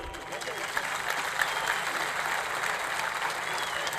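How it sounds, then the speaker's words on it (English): Audience applause at the Manama Dialogue Summit in Bahrain, a steady dense wash of clapping from a large hall crowd lasting throughout, with a few sharper claps standing out. "which he deserves a great applause from you."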